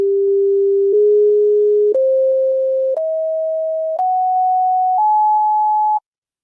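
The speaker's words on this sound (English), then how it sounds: "I'm going to play what the Leonard Horowitz solfeggio scale would sound like, just to give you a comparison using the same signal generator" A signal generator plays six pure sine tones of the Horowitz solfeggio scale, each held about a second and stepping upward in pitch, clean and steady with no talk.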